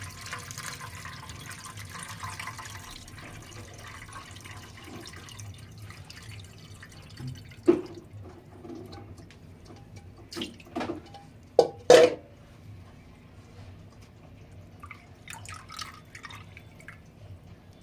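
Coconut milk strained for a Filipino puto maya sauce drips into a bowl in a quiet kitchen: a few scattered drops and small splashes, louder near the middle, over a low steady background hum.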